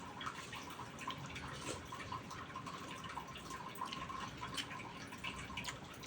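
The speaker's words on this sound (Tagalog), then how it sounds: "Maulan pa rin dito sa amin." Rainwater drips steadily in a rainy spell, with faint repeated droplet plinks and trickling heard close but quietly over a soft continuous wash, with no voices.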